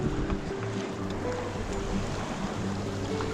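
A sailboat under way at sea in the Abaco islands, with a steady rush of water along the hull and wind, continuous and close, without speech.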